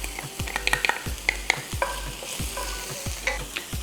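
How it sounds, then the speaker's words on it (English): Onions and garlic sizzle in a couple of tablespoons of oil in a pan, a steady close fry broken by repeated scraping stirs and sharp crackles, with no voices. "Let's add a little bit of oil into the pan, a couple of tablespoons, and let's add the onions"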